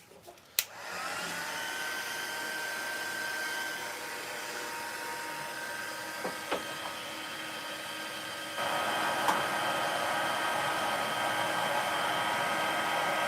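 An embossing heat tool blows steadily in a loud, close whoosh as it melts embossing powder on a stamped card, with a few small knocks and a step up in intensity partway through.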